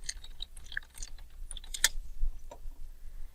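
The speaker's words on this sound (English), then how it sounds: "you would go to Compose, type in your message," Message being typed on a computer keyboard, a light irregular run of close key clicks with one sharper tap near the middle, no voices.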